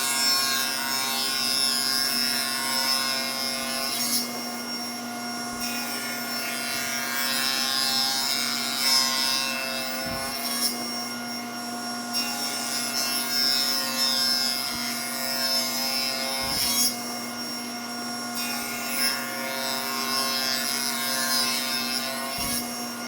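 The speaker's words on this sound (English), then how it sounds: "we'll raise our blade and do the same process over and over until we have cut clear through our 4-inch piece of wood" A table saw blade cuts repeatedly through a 4-inch piece of wood, a steady loud motor whine with grinding wood-cutting passes rising and falling in several cycles.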